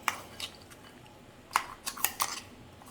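Ground dal is scooped from a vessel into a bowl, giving a few sparse, sharp clinks and taps of a spoon against metal, fairly close and isolated in a quiet room.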